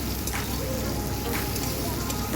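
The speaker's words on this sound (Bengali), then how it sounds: "পেঁয়াজটাকেও বেশ ভালো করে ভেজে নেব" Sliced onions fry in a pan with a steady, close, dense sizzle that holds evenly throughout with no pauses.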